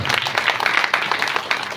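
Crowd applause at a Shiv Puran religious discourse gathering, a loud rattle of many hands clapping together, dense and sustained across the whole moment.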